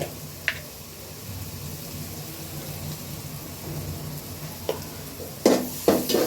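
Loitta fish curry sautéing in a pan with turmeric and chili powder, a steady soft sizzle with a few sharp stirring clacks and scrapes near the end, no talk.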